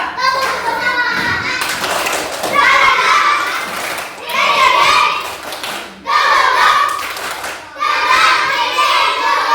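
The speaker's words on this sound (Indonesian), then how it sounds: "yuk sama-sama kita tepuk semangat dulu" A group of students claps in rhythmic bursts, chanting together between short pauses, the clapping patterns repeating several times with lively energy.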